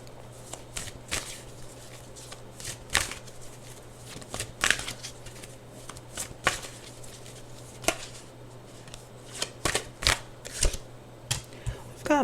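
A deck of cards is shuffled repeatedly close up, with sharp riffling and snapping bursts recurring in an irregular rhythm over a soft background hum.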